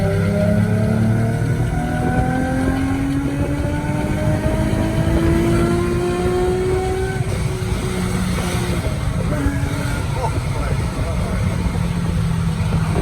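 Supercharged Nissan 350Z Nismo accelerating hard on a wet street, engine note climbing steadily through gears with a loud, continuous roar; rain and road noise fill the background while people talk nearby.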